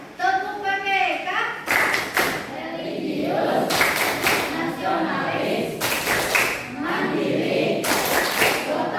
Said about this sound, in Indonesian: Kita akan berikan tepukan semangat, namanya tepuk PPK ya, tepuk penguatan pendidikan karakter